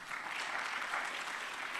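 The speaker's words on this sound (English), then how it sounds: "So please could we clap for them?" Brief burst of audience applause at a national statistics conference, honouring the sign language interpreters; many hands clap steadily at moderate volume, heard alone without speech.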